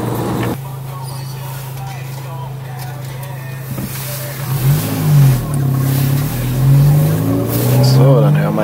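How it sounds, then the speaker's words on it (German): A car exhaust revving inside a parking garage, the engine rising and falling in several loud bursts with booming echoes off the concrete walls, and people talk over it. "dann hören wir jetzt mal schöner Auspuff in einem Parkhaus"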